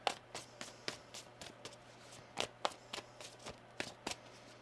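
Tarot cards are shuffled by hand in a quiet room, a series of soft, crisp riffling bursts repeating irregularly, close and faint, with no talk.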